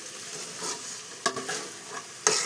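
Batter for black-eyed pea guggillu is stirred and mixed in a pot, giving soft wet scraping and swishing strokes at close range with a few sharper knocks, and no one speaks.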